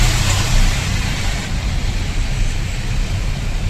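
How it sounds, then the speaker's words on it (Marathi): Heavy road traffic on Shilphata road in rain, a dense continuous wash of car engines and tyre noise, close and steady with no voices. "खतरनाक ट्रॅफिक आहे"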